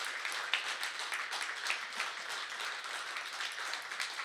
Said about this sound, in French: on peut les applaudir encore